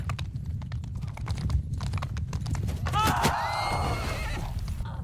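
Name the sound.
horse archer cavalry hooves in a video game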